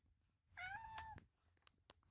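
A single clear, drawn-out meow from a cat in a transmission repair shop, close and distinct, followed by a few faint clicks and taps in an otherwise quiet room.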